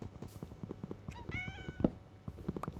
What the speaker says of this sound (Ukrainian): А знову десь котик.